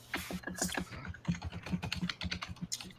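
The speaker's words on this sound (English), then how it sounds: "Who's typing 100 miles an hour?" Rapid typing on a computer keyboard, a dense run of quick clicks and key taps at close range with no one speaking over it.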